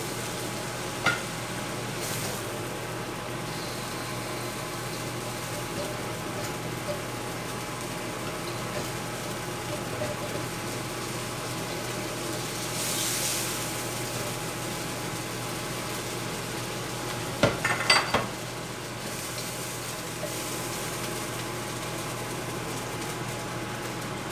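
A soft, continuous sizzle of chicken and shrimp stir-frying in a hot pan, broken by a few brief clanks and scrapes of utensils.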